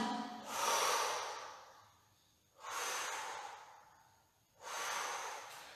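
Three slow, deep breaths taken during a Pilates exercise come close and clear, each a long airy inhale or exhale with quiet pauses between them and no talking.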